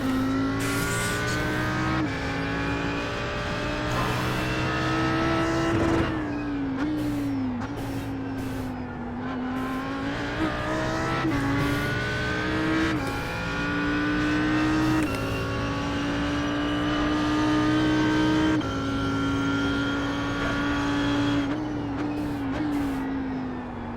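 An Audi R8 GT3 race car engine drones loudly at Sebring in iRacing, its pitch rising through the gears and dropping on each upshift and braking, in a steady, close, continuous onboard roar with no speech.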